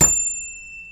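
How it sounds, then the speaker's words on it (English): A single hand bell rings once, a bright ding struck at the start that rings on and slowly fades in an otherwise quiet room. "I'm going to ring my bell in 3,"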